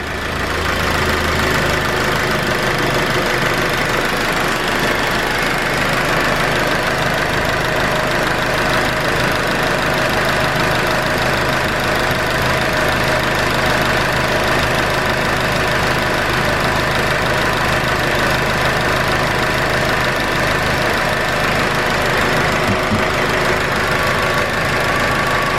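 Project car engine idling steadily up close, a continuous loud rumble with a faint knocking character and no talk over it.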